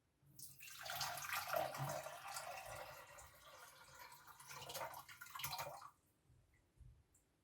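Murky stagnant water pours and trickles through a homemade survival filter, a faint close splashing flow that lasts several seconds before stopping, with no talking.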